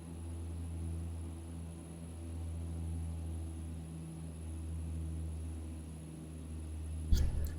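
A Saab 340B turboprop in a flight simulator drones with a steady low engine hum and propeller tone as power is eased back, ending in a brief cluttered burst of clicks.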